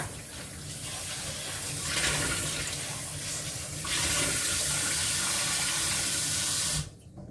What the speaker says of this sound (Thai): เห็ดหิมะเราแช่น้ำไว้ ล้างให้สะอาดก่อนจ้า